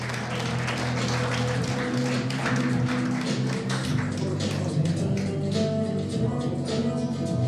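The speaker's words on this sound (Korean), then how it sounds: "큰 박수로 모시겠습니다." An audience at a convention fashion show applauds to welcome the chairwoman, a dense and sustained roar of clapping that holds steady and loud throughout, with no talk over it.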